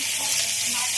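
Panch phoron spices, dried red chilli and bay leaves hitting hot oil left from frying snake gourd, a loud, close, steady sizzle and hiss with no voices.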